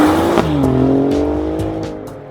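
A loud Alfa Romeo Giulia Quadrifoglio engine drones steadily close by while driving, its pitch dipping and settling, with a faint tyre hiss underneath.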